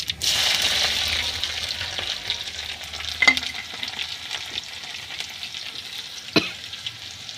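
Steady sizzling of garlic frying in hot oil, with a couple of sharp clinks of a utensil against the pan partway through.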